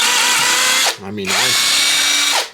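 A cordless 18V brushless 1/2-inch impact wrench, a budget Makita knockoff, whines loudly as it drives a drill bit, with a brief pause in the middle where the motor winds down and then spins up again.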